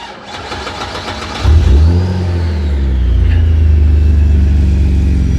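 A Ford car engine cranks briefly, catches with a loud rev, then settles into a deep, steady idle rumble close by.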